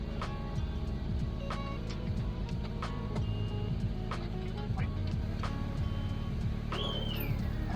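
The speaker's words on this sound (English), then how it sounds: "So here I started the car to get the power brakes" An Audi A3 engine idles steadily at low volume with a constant low hum, overlaid by intermittent ticking and clicking from work on the damaged car, and a short squeak near the end.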